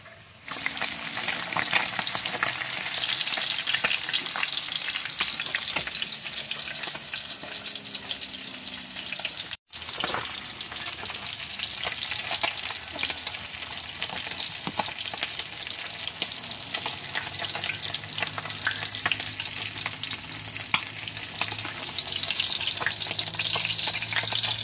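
Steady, continuous sizzling of garlic fried rice frying in a hot pan, with occasional stirring scrapes, constant and close throughout.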